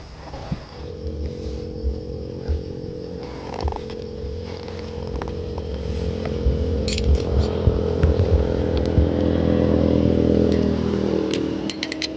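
A new big bike motorcycle engine idles steadily up close, a rough continuous rumble that grows slightly louder over time, with some clicking and clattering on top.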